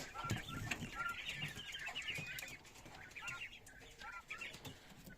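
Many chicks in a brooder cheep and peep together in a busy, chirping chorus, with occasional scuffles and flutters close by.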